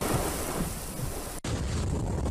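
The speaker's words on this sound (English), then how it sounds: "Tropical Storm Cindy slammed into the Gulf Coast this morning" Heavy rain and thunder from Tropical Storm Cindy on the Louisiana Gulf Coast, a dense, continuous roar of downpour and wind broken by a short cut.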